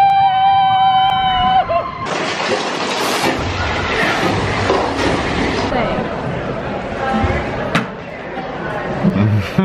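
A Disney monorail running at Walt Disney Studios in Burbank, California: a tonal whine at first, then a loud rushing, rattling roar of the train that fills the rest of the time, with voices mixed in.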